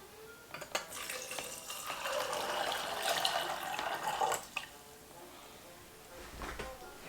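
Water runs from a kitchen tap while dried beans are canned, a steady hissing splash for several seconds that then cuts off, with faint clatter around it.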